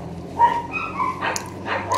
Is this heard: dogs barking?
yes